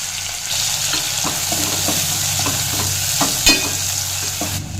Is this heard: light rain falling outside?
no